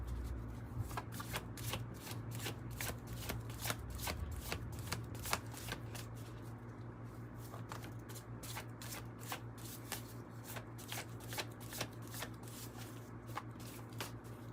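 Tarot cards being shuffled continuously, with a steady run of crisp riffling flicks and soft card-slapping bursts at close range and no voice over it.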